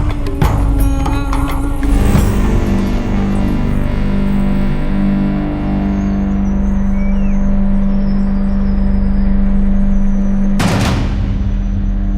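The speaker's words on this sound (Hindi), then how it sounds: "सर गाड़ी आ गई।" A car pulls up in a tense police-standoff scene from a Hindi crime drama, its engine a loud steady rumble throughout, with a sharp burst near the end.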